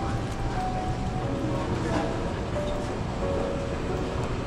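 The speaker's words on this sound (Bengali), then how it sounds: "এখন আমি ট্রেন ধরে যাব" Rumbling train ride through New York, with a steady, broadband rolling roar and rattle continuing throughout at constant loudness, with faint talk mixed in.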